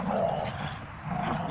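A dog growls and whimpers while tugging on a toy at a dog park, a close, low rumbling growl with brief whiny yips, moderately quiet over faint outdoor background.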